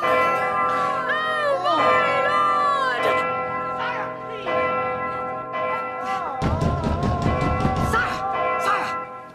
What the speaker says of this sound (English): Why do the bells ring?